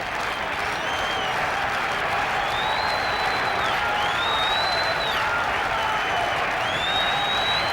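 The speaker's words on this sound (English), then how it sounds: "now listen to the crowd again with a 2-strike count on the hitter" A 1978 Yankee Stadium crowd roars steadily at a two-strike count on the hitter, dense cheering and clapping with whistles cutting through, building slightly in the middle.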